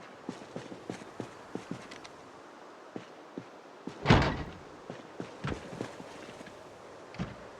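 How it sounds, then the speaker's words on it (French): A door creaks open in a video game with a loud burst midway, set among a steady series of sharp knocking clicks, like footsteps, with no talking. "La porte qui vient de s'ouvrir, effectivement."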